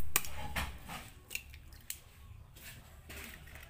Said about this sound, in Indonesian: Kita kocok telurnya.